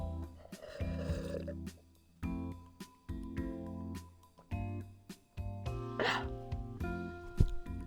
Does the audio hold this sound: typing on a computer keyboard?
no